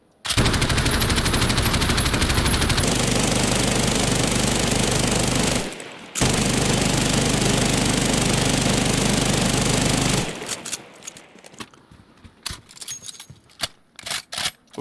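Sustained rapid automatic gunfire in Call of Duty Modern Warfare, loud and continuous for several seconds with a brief pause, then trailing into scattered shots and clattering impacts as targets break.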